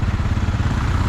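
A close, loud motorcycle engine rumbles steadily with a throbbing low drone on a street in Kuching, Sarawak, Malaysia, constant through the whole short moment.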